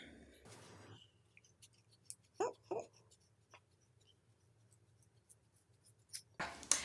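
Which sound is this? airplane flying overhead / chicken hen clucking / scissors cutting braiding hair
scissors cutting braiding hair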